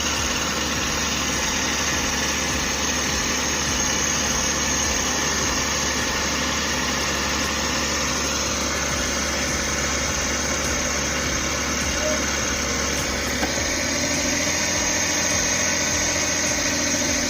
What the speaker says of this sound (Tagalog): Kung mapansin ninyo, yung makina natin ay tahimik na tahimik.